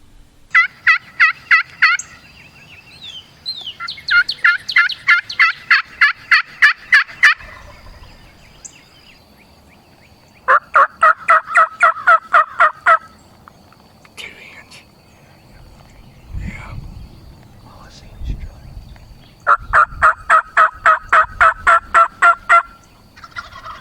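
Wild turkeys gobble from the roost in repeated loud, rapid rattling bursts separated by pauses, fairly close, with faint whispered talk and rustling between them.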